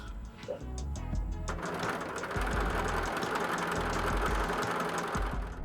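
A sewing machine runs a line of stitching across an Aster & Anne book cover, a steady rhythmic whirring hum that speeds up after a short start, close and continuous with no talk.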